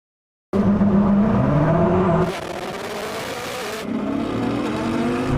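A Koenigsegg Jesko and a Bugatti Chiron Super Sport launch off the line on a dusty surface in a drag race, engines roaring loud and close with rising revs that step through gear changes.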